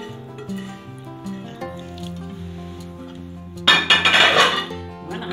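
A cocotte pot is handled while chicken rfissa cooks, with soft clinks and scrapes of cookware followed by a louder burst of metallic clattering near the end, close and alone without talk.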